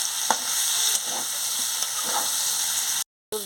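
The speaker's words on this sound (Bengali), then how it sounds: "এটাকে ভালো করে ভেজে নিচ্ছি। এবার আমি পুঁই ডাঁটাটাও দিয়ে দিচ্ছি।" Mixed vegetables with Malabar spinach stems fry in a pan with a constant loud hiss, with faint stirring scrapes under the sizzle before a brief cut near the end.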